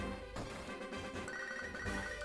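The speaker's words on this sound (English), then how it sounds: "Professor Elm is calling me on my phone." The Pokégear phone rings in the video game Pokémon HeartGold, a short electronic ringtone melody of bright repeating chimes, clear and alone.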